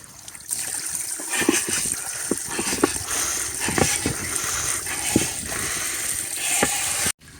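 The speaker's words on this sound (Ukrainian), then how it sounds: "Зараз ми її протестуємо, наберемо сюди води." Tap water running into a 20-litre tourist canister, a steady rushing pour with hollow knocks and clunks of the container, close and continuous until it cuts off abruptly near the end.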